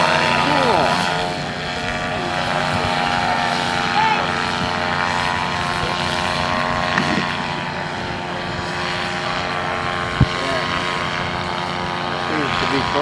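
A small propeller aircraft drones loudly and steadily through a takeoff run in high winds, its engine and propeller tone constant, with gusting wind noise and people talking over it.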